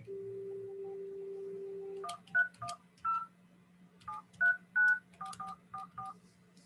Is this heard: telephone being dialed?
yes